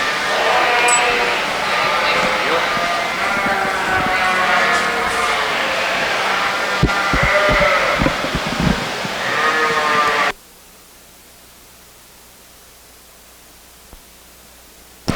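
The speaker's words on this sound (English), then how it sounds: "Now ready for pair of yearling ewes, Southdown pair yearling ewes" Southdown yearling ewes at a sheep show, with repeated bleats over a dense crowd and hall murmur, ending abruptly in near silence partway through.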